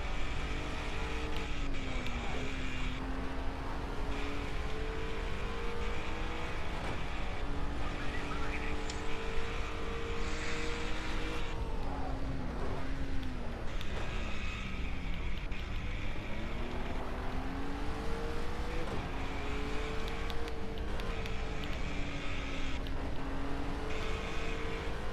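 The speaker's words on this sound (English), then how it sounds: "His BMW driving." A BMW car drives steadily, its engine drone continuous with shifting pitch as revs rise and fall, close and fairly loud throughout, with no speech over it.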